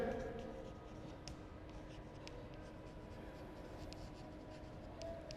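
Chalk or marker scratches across a board in short, sharp strokes during a math lesson on units of length, quiet and close over a steady room hum, with a few crisp taps marking separate strokes.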